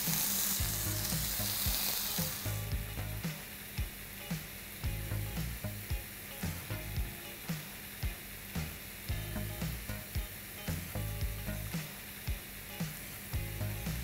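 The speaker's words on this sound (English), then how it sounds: "But what I'm doing is I'm pan cooking this. Let's place this very gently." Qureshi kebabs sizzle steadily in a pan over high heat, a continuous loud frying hiss with small repeated crackles and pops throughout, no voices.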